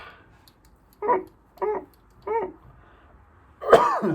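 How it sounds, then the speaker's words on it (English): A burst of short, close coughs in quick succession, three small ones spaced about half a second apart, then a louder, harsher cough to finish. "That sound effect made me cough."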